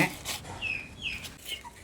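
Chickens make a few short, high clucks and squawks close by, with a soft rustle at the start and quiet background between the calls.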